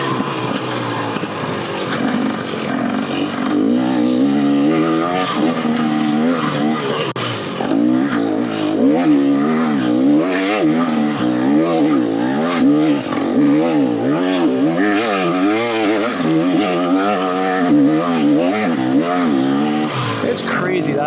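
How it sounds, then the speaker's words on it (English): A two-stroke dirt bike revs and shifts along a windy Arizona trail, its exhaust captured from a rider's back in a constant buzzing drone that rises and falls with throttle, mixed with wind rumble and the rider talking over it. "Try to get some exhaust noise."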